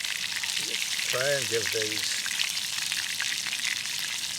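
Food sizzles at a slow simmer in a pan on a Firebox stove at an overnight wild camp near Dunseverick, a steady frying hiss running throughout while someone talks over it.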